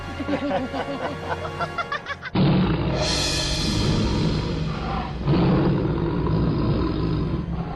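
Tiger roaring in a dramatized TV scene, with a loud, rough bellow that bursts in abruptly after a stretch of voiced chatter and rumbles on in heavy, sustained waves close at hand.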